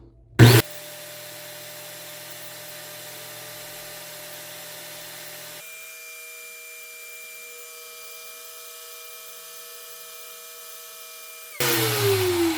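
A Makita M9510B angle grinder starting with a sharp click, then running steadily at full speed as a constant whine with clear tones that shift pitch midway, ending with a louder burst of noise.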